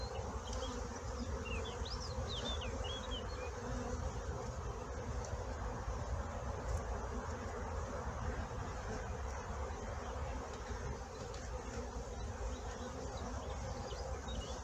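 Honeybees buzz at an open beehive during queen rearing. A dense, steady hum runs throughout, close and continuous, with no voices.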